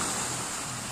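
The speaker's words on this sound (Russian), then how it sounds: "Море." Mediterranean Sea waves washing on a calm, sparsely populated shore, a steady broadband wash with constant surf hiss and some wind rumble, close and fairly loud.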